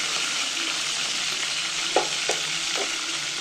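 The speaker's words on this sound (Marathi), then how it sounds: "चांगली तडतडून घ्यायची मिरचीला." Green chilies fry in hot oil in a pot on a village wood-fired stove, a steady close sizzle broken by a few sharp crackles and pops, with no voices.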